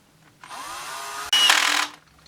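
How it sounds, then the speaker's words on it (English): Torque-sensitive power driver running a bolt into a Stihl MS660 clone chainsaw, one steady whirring burst that steps up louder as the bolt seats, then cuts off, close and with no talking. "This is not an impact, it's a torque sensitive, so don't nobody worry, I'm not impacting these in."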